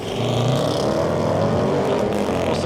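A Range Rover Sport launches from a brake-boosted standing start with the gearbox in S, its engine giving a loud, sustained roar throughout.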